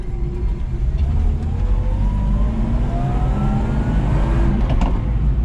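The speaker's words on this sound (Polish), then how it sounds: "Na razie jeszcze go wyłączę, niech się silnik nagrzeje." A car engine idles steadily while warming up before track driving, a constant low rumble that holds level throughout with faint tonal whines above it and no voices.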